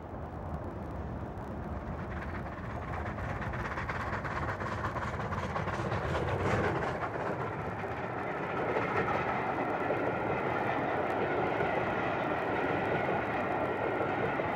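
Steam locomotive running north on the Settle and Carlisle line in Britain, a continuous loud rumble of train and rail noise throughout, steady and close with no speech.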